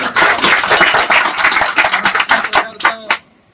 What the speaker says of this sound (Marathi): आपण सगळ्यांनी जोरदार टाळ्या वाजवून